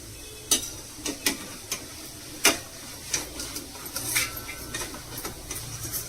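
Thin karappusa (murukku) frying in hot oil, with a steady faint bubbling under repeated sharp clicks and taps, likely a spoon or ladle against the pan.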